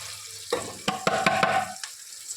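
Green chillies with coriander and turmeric powder dropped into a hot pan, a sudden sizzle with several sharp clacks of stirring, close and brief before fading quiet, with no talking.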